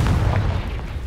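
Confringo spell explosion in the Hogwarts Legacy video game, a single low, booming burst that decays into a rumbling tail over about a second, with no talking.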